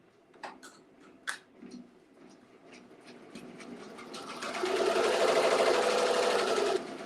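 A multi-needle embroidery machine stitches an appliqué design on a panel. A few clicks and knocks come first, then a rapid, loud mechanical whir of stitching rises and holds steady before easing off.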